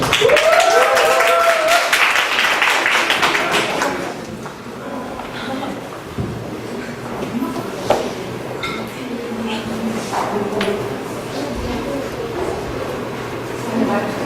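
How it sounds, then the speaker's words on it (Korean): Audience at a workshop event applauding to welcome the next team: a burst of clapping fades over the first few seconds, then a room murmur follows with scattered clinks and voices talking. "네, 그러면 다음 팀 박수로 환영해 주십시오."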